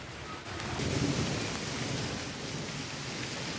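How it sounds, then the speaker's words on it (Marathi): Heavy cloudburst-like rain pours over Latur city in a dense, steady roar, with a low rumble of thunder running beneath the downpour throughout. "दुपारी 2 वाजल्यापासून लातूर शहर आणि परिसरात ढगफुटीसारखा पाऊस पडतोय"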